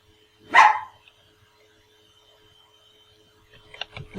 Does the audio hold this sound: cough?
no